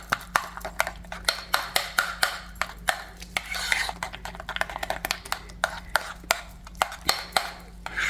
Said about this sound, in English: I'm going to use my spoons to make sure I'm getting it off the edges and off the bottom